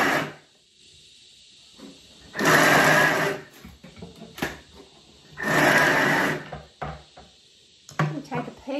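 Chunky pesto dip whizzed on turbo in a Thermomix, two loud bursts of whirring blade noise a few seconds apart, close up, with quieter clatter and handling between them.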